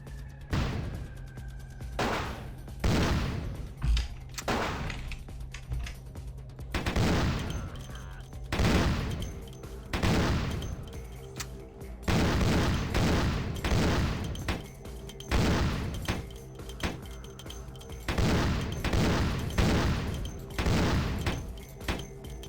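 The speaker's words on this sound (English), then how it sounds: "he's just shooting every time he gets hit" Repeated gunfire from an enemy in the Vampire: The Masquerade - Bloodlines video game, loud sharp shots arriving in bursts and clusters throughout, close and dominant.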